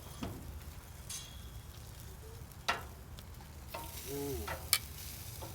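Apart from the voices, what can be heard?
chipotle marinated pork sizzling while frying in a pan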